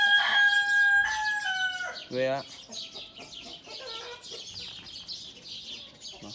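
Indian game roosters crow in long drawn-out calls near and in the distance, mixed with hens clucking and chicks chirping; someone speaks briefly over the birds.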